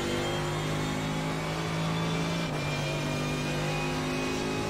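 Mercedes GT3 race car in iRacing at Monza, a loud continuous engine howl holding steady pitch, briefly dipping midway, then carrying on at high revs.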